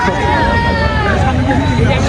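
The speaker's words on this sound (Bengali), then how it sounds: "অনেক জায়গা থেকে অনেক মানুষ আসে এখানে অনেক মানুষ আসছে এই জায়গায়" A crowd of people at an outing spot by the water in Keraniganj, a dense continuous babble of many voices close around.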